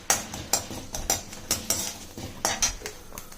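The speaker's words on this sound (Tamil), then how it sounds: "இப்போ குழம்புக்கு ஒரு அரை ஸ்பூன் அரிசி ஆட் பண்ணிக்கோங்க. வறுத்துக்கோங்க லைட்டாக." A metal spoon scrapes and clinks against a pan in quick, uneven strokes, stirring dry-roasting rice grains up close, with no talking.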